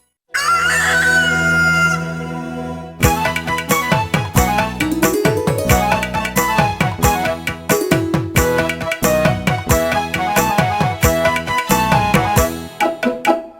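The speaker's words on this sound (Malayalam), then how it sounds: "കൂവിയറിയിക്കാൻ കോഴി വന്നു" A cartoon rooster gives one long, loud crow, then a lively bright musical tune with a steady beat starts up behind it.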